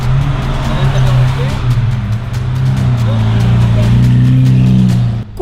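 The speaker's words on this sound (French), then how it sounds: "c'est bien une Aventador SV, suivie d'une deuxième Aventador SV couverte de Swarovski" Lamborghini Aventador SV supercars, one covered in Swarovski crystals, drive past with a loud, steady engine drone and rising pitch, while a person talks over the noise throughout.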